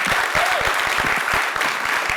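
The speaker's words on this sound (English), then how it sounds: "This has to be the loudest round of applause." Loud, sustained applause from a large audience at a stage event honoring artists, dense clapping filling the whole stretch with a faint crowd murmur underneath.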